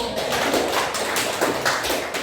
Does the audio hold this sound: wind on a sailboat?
no